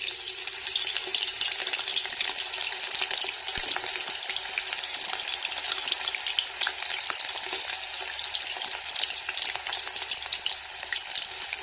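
Aloe vera pieces frying in hot oil, a steady bright sizzle that holds evenly throughout, close and moderately loud, with an occasional faint crackle and no voices.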